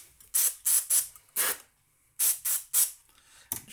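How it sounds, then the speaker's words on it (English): Contact cleaner sprayed onto a switch of an Akai 4000D reel-to-reel tape deck: seven short, close aerosol hisses of roughly a third of a second each, three in quick succession, a single burst, then three more and a final brief spurt. "Give this a spray of some contact cleaner."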